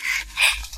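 A puppy gives two short, high yipping barks close by, the second one louder, with a faint softer sound trailing after.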